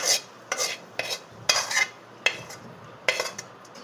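A spoon scrapes and clacks against a bowl as uttapam batter is mixed with sautéed vegetables, about seven sharp strokes in an even rhythm over a soft wet slosh, close up with no talking.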